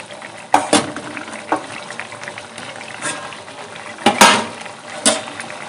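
Fried parshe fish goes into a simmering curry of lau shak stems, making a few distinct splashes and stirring clatters over a soft, low bubbling bed.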